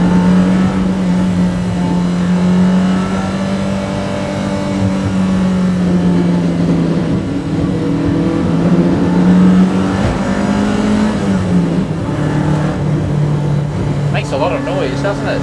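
A 1986 BMW M3 E30 historic road racer climbs a hill in fifth gear, its engine droning loud and steady from inside the cabin with slow pitch shifts as it pulls, while people talk over it.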